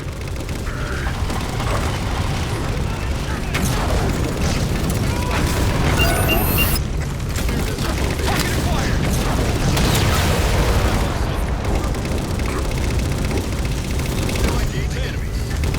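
Railgun shots and mechanical clanks in Halo 4 sound through dense, loud battle noise. Booming blasts and ratcheting reload sounds recur over about sixteen seconds.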